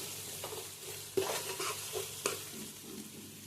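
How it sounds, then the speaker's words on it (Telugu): Ginger garlic paste fries in a pan for a country chicken curry, with a soft continuous sizzle broken by several stirring scrapes and light clacks of a spoon against the pan, close but fairly quiet and without speech. "బాగా ఎర్రగా వేగాలన్నమాట అల్లం వెల్లుల్లి పేస్ట్."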